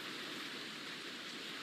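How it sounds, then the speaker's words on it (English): Hail during a severe storm in Round Rock patters densely and evenly onto parked cars, a steady wash of hard rain-like hiss heard at a distance without a break. "we just got another round of hail, and you can probably hear it again hitting the cars out here"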